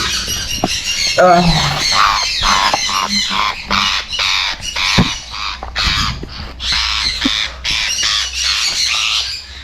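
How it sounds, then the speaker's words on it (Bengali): Caged aviary birds squawking loudly and repeatedly in sharp close bursts while a female bird is handled into a carrier, with a person talking in between the calls. "আমরা প্রথমে ফিমেল পাখিটাকে সুন্দর করে ক্যারিংয়ে দিয়ে দিচ্ছি"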